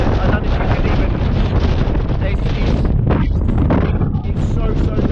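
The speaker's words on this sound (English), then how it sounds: "The wind is so bad." Strong gusting wind buffets the microphone on an exposed mountain hike up Cruach Mhor, a loud continuous roar with broadband rushing that barely lets up, with a voice talking underneath.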